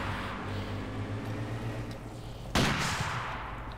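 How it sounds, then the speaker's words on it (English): A single sharp sniper rifle crack bursts out from a steady, rumbling battle din in Company of Heroes 2, loud and sudden near the end. "Snipers firing away, yeah!"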